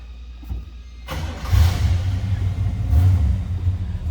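A 1965 Oldsmobile Cutlass Convertible engine cranks briefly, catches and fires up, then settles into a steady close rumbling run with a couple of swells in revs, no voices.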